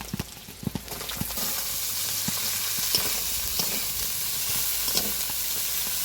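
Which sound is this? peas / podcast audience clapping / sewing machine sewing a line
peas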